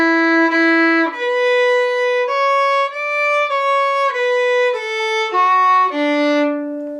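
A solo fiddle plays the second section of Morrison's Jig, a clear, close run of bowed notes moving step by step up and down in an even, steady pulse with no other sound.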